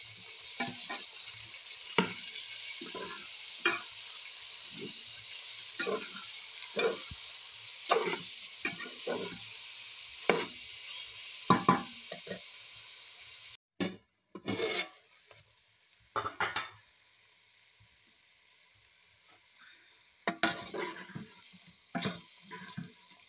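Pansit noodles with vegetables and flaked chicken are tossed in a pan, making a steady faint sizzle under repeated scraping stirs of a utensil, close by, with a brief pause partway through.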